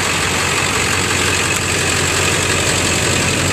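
A 7.3L diesel engine in a Ford F350 pickup idles steadily, a loud, continuous low rumble with a faint ticking knock running throughout, and no voices.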